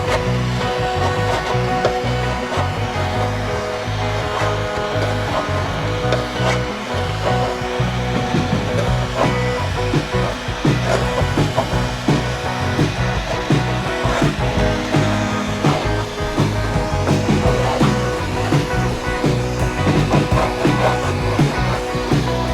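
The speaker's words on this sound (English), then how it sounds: "basically just taking a blowtorch, heating it up and taking a scraper and scraping it off" A blowtorch roars steadily and loudly throughout while a scraper works undercoating off a Jeep Cherokee XJ unibody frame, with an uneven scraping texture layered under the continuous flame noise.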